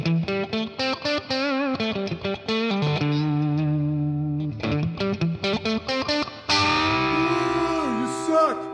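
Electric guitar played through a Boss Katana amplifier with heavy reverb and effects, strummed chords and picked notes ringing out with a washy, echoing tail, loud and alone.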